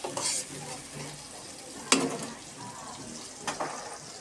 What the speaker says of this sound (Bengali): এখন আমু ভালোভাবে নেড়ে নেবে তেলের সাথে পেঁয়াজটা